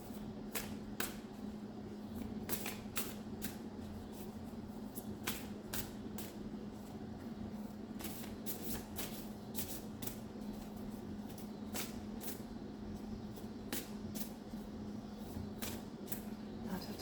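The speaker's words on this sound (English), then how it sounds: "Not to talk while I'm shuffling" Tarot cards are shuffled by hand, a steady run of crisp riffling and flicking bursts that goes on at close range in a quiet room, with no one speaking.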